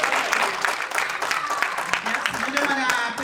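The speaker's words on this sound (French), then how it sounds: "Je vous demande d'applaudir Marie encore une fois." Applause from an audience at an association's anniversary event, a continuous patter of many hands clapping at moderate level, with voices mixed in beneath it.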